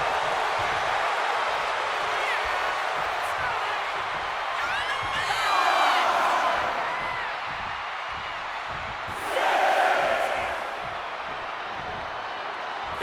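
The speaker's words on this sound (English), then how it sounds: "And Lyra Valkyria is revving this crowd up." Arena crowd in WWE 2K25 roaring steadily through a Nia Jax vs Lyra Valkyria women's match, swelling into two louder cheering surges, with commentary talk running over it.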